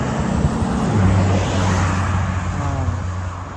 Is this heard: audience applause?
no